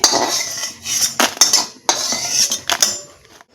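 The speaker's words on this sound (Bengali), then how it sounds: "পেঁয়াজগুলো এখন আমি নাড়াচাড়া করে পেঁয়াজগুলো ভেজে নিব" A utensil scrapes and clanks against a pan as onions are stirred dry-frying without oil, several sharp metallic strokes spaced irregularly, close and clear.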